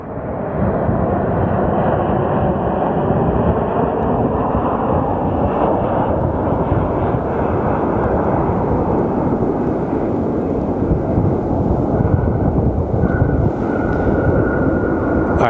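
Jet airliners landing at Phoenix Sky Harbor Airport, a steady, loud, rumbling engine roar that holds for the whole stretch, with no speech.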